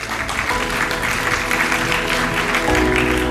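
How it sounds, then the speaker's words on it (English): Steady clapping from a conference audience at an actuarial summit, a dense even patter sustained for a few seconds with a low room hum beneath and a slight swell near the end. "Let's give them a round of applause."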